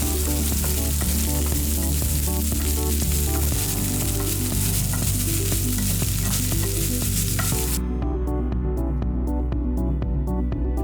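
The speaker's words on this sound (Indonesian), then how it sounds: "Sedang menumis dan mengaduk wortel dalam panci penggorengan." Steady sizzling of carrots stir-frying in a pan with stirring scrapes, continuous and close, then cutting to sparse clicks.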